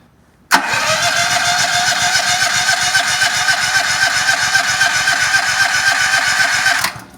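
A portable gas generator engine turns over and catches abruptly, then runs at a loud, steady, close-up drone for several seconds before cutting off near the end, with no talking.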